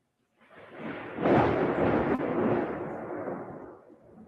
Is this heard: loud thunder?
yes